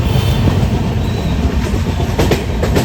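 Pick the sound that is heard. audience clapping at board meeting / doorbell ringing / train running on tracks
train running on tracks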